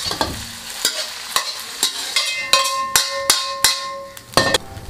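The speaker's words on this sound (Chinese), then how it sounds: "锅烧热倒油，先来炒肉丝" Shredded pork stir-fried in a hot wok with oil, a spatula scraping and clanging against the metal in a rapid, uneven rhythm over a steady sizzle, close and fairly loud.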